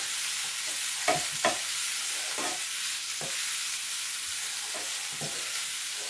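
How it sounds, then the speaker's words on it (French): Onion and garlic cloves sautéing in a pan, a steady close sizzle broken by several brief utensil scrapes and taps as the pieces are stirred, no talk. "On fait donc revenir l'oignon et les gousses d'ail jusqu'à ce que ça devienne translucide."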